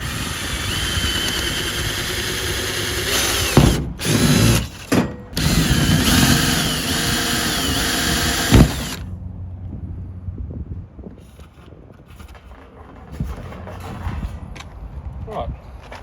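A power drill whines loudly and steadily as it drills out a rivet on an F150 truck, stopping briefly a few times before cutting off, followed by quieter rustling and handling noise.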